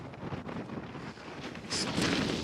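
Gusty wind buffets the microphone on a sunny stretch of the Maltese coast with sea on both sides, a dense, roaring rumble that swells louder partway through, with no voices.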